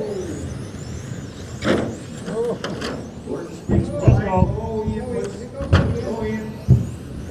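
Stock cars roar off the line at the start of a race, engines loud and rising in surges with a few sharp bursts, while an announcer talks over the noise.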